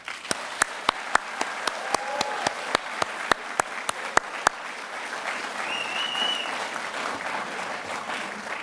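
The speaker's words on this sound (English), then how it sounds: "I would like to suggest another round, a final round of applause for the graduates." Audience applause for graduates at an inaugural university commencement ceremony, dense sustained clapping throughout, with a run of sharp, evenly spaced loud claps close to the microphone in the first half.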